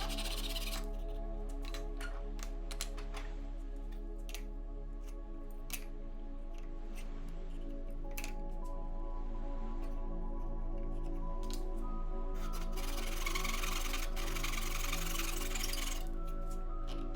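Scissors or snips cutting the corners of a small children's tool box, a string of sharp close snips and crunches over a steady low electrical hum, growing busier near the end, with no talking.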